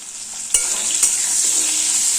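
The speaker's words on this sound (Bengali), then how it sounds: "গ্যাসের ফ্লেমটা হাইতে করে দিয়ে দুই মিনিট আলু ভেজে নেব" Steady, bright sizzling of diced potatoes with a little turmeric frying in a hot pan over a high gas flame, with a couple of sharp clinks or stirs partway through; no talking.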